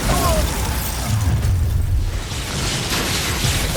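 The Bombarda blasting spell bursts in Hogwarts Legacy, a loud, heavy blast with a rumbling low boom and a crackling debris-like rush that stays strong for a few seconds.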